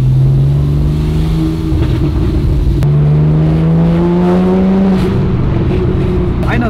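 A loud car engine drones and revs through the whole stretch while the car moves slowly at about 36 km/h, with the pitch rising and falling as it accelerates, close and constant.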